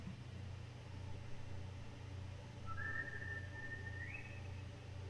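A single clear whistle from the West Side Story film overture holds one pitch, then steps up higher before stopping, heard over a steady low engine-like hum.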